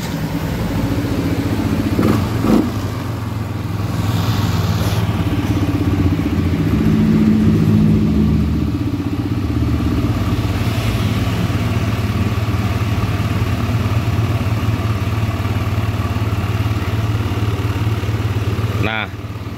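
A Yamaha NMAX scooter engine with an engine-check fault and unstable idle runs steadily at a low idle, loud and close. Its hum holds level for the whole stretch, with a voice talking faintly over it.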